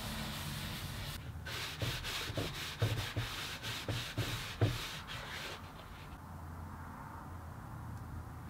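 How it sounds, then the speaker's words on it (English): Danish oil being wiped by hand onto a porous oak stool seat, a series of soft rhythmic rubbing strokes close by that stop abruptly, leaving quiet room tone. "you can just dump it on there, wipe it around, make sure you get it all in"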